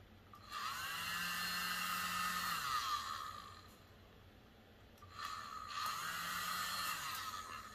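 Air blown across a wet acrylic paint pour on an 8-inch wood round, two sustained breathy whooshes of a few seconds each with a short pause between, close and fairly loud.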